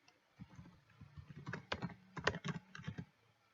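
Quick, soft keystrokes on a computer keyboard tap out a short comment in irregular clusters, close and faint with nothing else heard.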